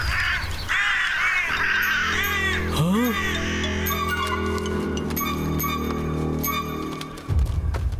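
Several crows caw loudly and repeatedly, close by and overlapping, with a steady background hum and other sounds underneath.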